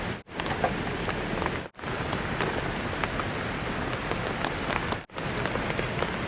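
Steady rain pours on a forest campsite, a dense continuous hiss of drops on leaves and surfaces, loud and close, with brief dropouts in the sound.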